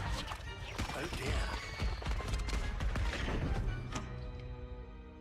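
A misfiring wand in Hogwarts Legacy gives off a rapid crackle of firework-like pops and bangs that fades near the end, loud against the game's background sound.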